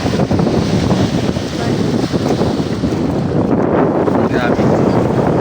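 Strong wind roars across the microphone beside a rough sea with big waves, heavy continuous buffeting and surf rumble at the shore, too rough for boats to head out.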